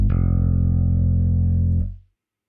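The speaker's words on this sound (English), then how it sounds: "Sub bass adds a sine wave to your sound to give you a little bit more body" Sampled electric bass from the EZ Bass library with a sub bass sine wave layered underneath, one sustained low note ringing steadily for nearly two seconds before a quick fade to silence.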